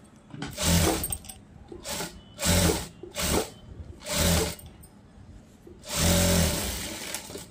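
A tailoring sewing machine stitches a boat neck blouse in several short bursts of rapid whirring, each lasting under a second, separated by quiet pauses. A longer run comes near the end.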